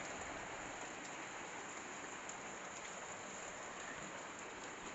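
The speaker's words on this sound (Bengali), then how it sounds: "দেখো বৃষ্টিটা অনেকটাই কমে গেছে" Light rain falls steadily around a house, a soft, even hiss of drops on surfaces that holds constant throughout with no voices.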